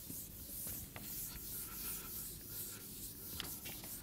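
Chalk or marker writing on a lecture board, a continuous close scratching and rubbing with short strokes and taps, heard alone without talk.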